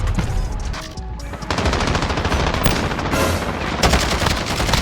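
Rapid automatic gunfire from a CR-56 AMAX assault rifle in Call of Duty Modern Warfare multiplayer, dense continuous bursts with a brief lull, loud and close throughout.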